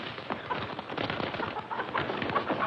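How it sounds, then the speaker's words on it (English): A flock of chickens clucks and flutters continuously, their agitated calls overlapping nearby with scattered knocks and movement noise, no voices on top. "Chicken."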